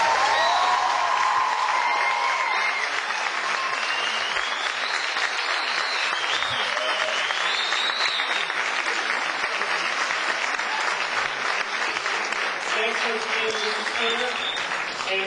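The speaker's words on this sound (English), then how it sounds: "How about a nice round of applause for you?" Sustained audience applause fills the room at a local community gathering, steady and dense from start to finish with no talk over it.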